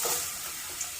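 Cassava pieces dropped into hot oil for chips, a brief steady hissing sizzle up close lasting about a second.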